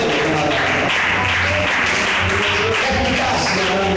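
A church congregation applauds steadily, a continuous wash of clapping blended with music and voices, fairly loud and sustained.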